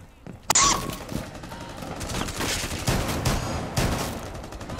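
Video game gunfire rattles in rapid bursts, loud and close at first, then continuing as a busy run of shots with a faint voice beneath.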